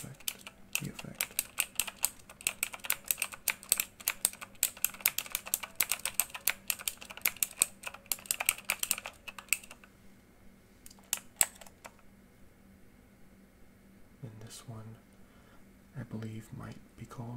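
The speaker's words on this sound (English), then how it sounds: "So if you're typing real fast, your keyboard will stay lit up the entire time pretty much." Rapid typing on a colorful lit computer keyboard, dense clicky keystrokes close up for about ten seconds, then sparser taps, with a voice talking quietly at the end.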